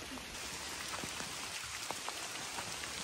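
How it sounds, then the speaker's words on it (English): Steady rain falls outdoors with a dense, even hiss and scattered drop taps, close and alone, with no one talking. "we're just enjoying the rain"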